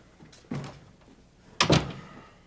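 A door opens as a visitor steps inside, giving a soft, muffled clunk followed about a second later by a sharper, louder latch-and-swing thud, close by with no talking over it.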